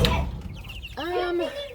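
Royal gray broiler meat chicks, about three to four weeks old, on a homestead give a few short clucking calls close by over a soft background.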